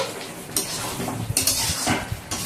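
A metal lid lifts off a pot of chicken curry with a few clanks and scrapes, loud and close, as cookware rattles over a soft sizzle.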